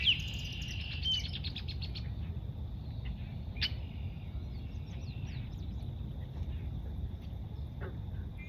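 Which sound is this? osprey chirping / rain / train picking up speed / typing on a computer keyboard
osprey chirping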